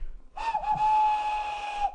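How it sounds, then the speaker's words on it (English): Steam engine whistle from the Roblox remake of James the Red Engine: a sustained, steady tone of nearly two seconds that starts abruptly and cuts off, with a slight waver near its start. "Edward whistled after him."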